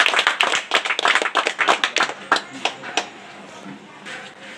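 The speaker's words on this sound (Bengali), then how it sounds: "সবাই হাততালি দাও" A group of people clapping at a pigeon competition prize distribution ceremony, a burst of quick, close claps for about three seconds that thin out and fade, with faint murmuring at the end.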